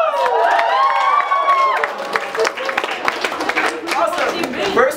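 Audience applause and cheering for the judges at an Iron Chef-style cooking competition, a crowd clapping steadily over several seconds beneath an excited voice.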